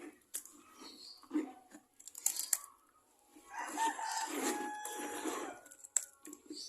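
Backyard chickens fed a cheap homemade mash of fine rice bran peck and cluck close by, with scattered soft clucks, short pecking clicks and a rooster-like call mid-way, irregular and fairly quiet.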